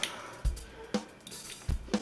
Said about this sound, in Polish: To co słyszycie cały czas tutaj, co klika iPod, ma wbudowany głośnik właśnie do tego